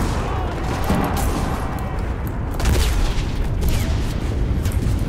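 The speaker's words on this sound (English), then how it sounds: "They're calling in artillery." Artillery fire and battlefield gunfire from the WWII shooter Enlisted, a continuous rumbling barrage with heavy booms and scattered shots, loud and dense throughout, with a voice heard briefly.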